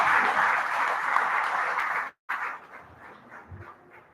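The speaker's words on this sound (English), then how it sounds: "let's give all these kids a round of applause" Applause from a 4-H expo crowd for the kids after a livestock show class, moderately loud at first, cutting out briefly, then resuming more thinly and fading.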